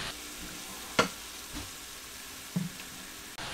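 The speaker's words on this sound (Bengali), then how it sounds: "যে মশলাটা রেডি করে রেখেছিলাম সেটা দিয়ে এটা ভালো করে কষিয়ে নেব" Spice paste sizzles softly in a pan as it is fried and stirred, with a low continuous frying hiss broken by a few sharp clinks and scrapes of the spatula.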